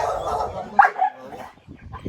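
A dog, an American Pit Bull or American Staffordshire Terrier, whimpers and lets out a short, high yelp over a low, steady background rumble.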